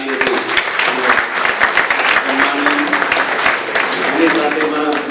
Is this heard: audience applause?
yes